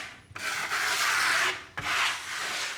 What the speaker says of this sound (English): It's a Japan scraper.